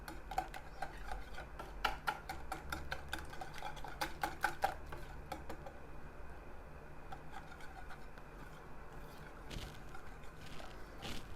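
Batter for cauliflower fritters being stirred in a bowl as flour is added bit by bit, a steady run of small close clinks and ticks with soft scraping over a low background hum.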